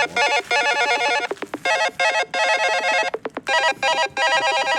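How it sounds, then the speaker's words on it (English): An electronic alarm rings loudly in rapid trilling bursts, broken by short gaps, repeating without any talking. "That's my alarm going off to check this."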